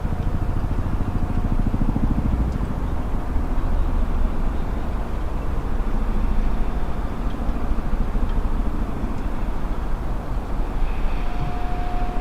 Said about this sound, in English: Yeah, definitely hear a helicopter.